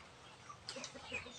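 Backyard chickens, some recovering from coryza, give soft scattered clucks at low to moderate level over a quiet outdoor background, with a few brief louder calls toward the end.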